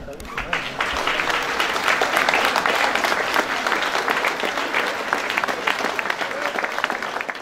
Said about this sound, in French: elle mérite tous vos applaudissements